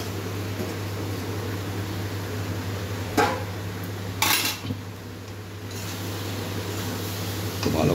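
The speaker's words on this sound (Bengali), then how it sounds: "ভালো করে কষে নিচ্ছে সয়াবিন আলু মশলাগুলো একসঙ্গে।" Soaked soybeans, potatoes and spices being stir-cooked together in a pan: a few sharp metallic clinks and scrapes of a utensil against the pan, spaced seconds apart, over a steady low hum with no talking.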